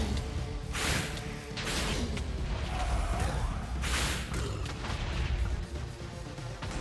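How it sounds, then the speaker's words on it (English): Heavy combat in a modded Minecraft survival server as a player attacks the wither boss, with a dense run of booming explosive blasts and crashing impacts over continuous rumble, loud and close throughout. "Then I attacked the wither for a while to make it easier for me to attack Pride."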